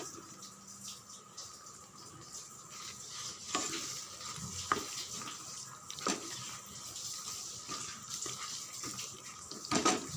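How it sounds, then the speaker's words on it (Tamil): Prawns sautéing with masala in a pan for a prawn gravy, giving a steady low sizzle with occasional stirring clinks and scrapes, fairly quiet and alone with no talk. "அந்த மசாலா கூடயே இறாவும் ஒரு 5 நிமிஷம் நல்லா வதக்கி விடுங்க."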